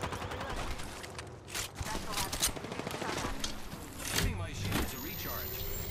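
Apex Legends gunfire rattles in rapid bursts through a busy firefight, mixed with clanks and other game effects, loud and continuous.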